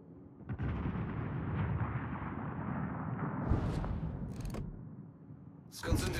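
Naval gunfire from the Tier 10 USS Montana battleship in World of Warships: a long rolling heavy boom sustained for seconds, followed by sharp bursts near the end, loud and close.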